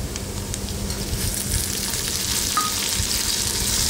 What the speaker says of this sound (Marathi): टोमॅटो पण परतून घेऊया।